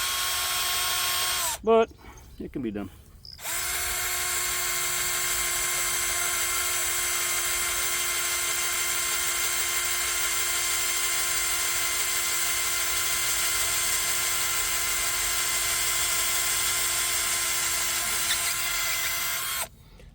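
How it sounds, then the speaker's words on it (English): A power drill bores through a knot in timber while framing a hay shed wall, whining steadily and loud for about sixteen seconds after a brief start-and-stop, with a short spoken remark before it. "Drilling through a knot is never easy,"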